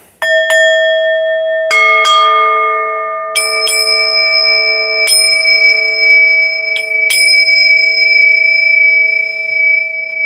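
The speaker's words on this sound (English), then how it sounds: "I can hear the bells" Bells ring out loud and close, with about six separate strikes whose bright, layered tones hang and overlap as each new stroke lands, and no voices.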